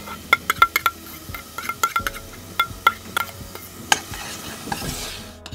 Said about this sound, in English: All right, so just got that onion moving around.